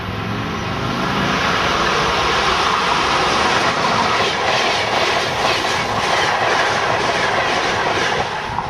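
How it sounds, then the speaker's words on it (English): A train rumbles past a station platform at close range, a loud continuous roar with faint rhythmic clatter of wheels on track throughout, after a station announcement. "Train approaching. Please remain behind yellow line."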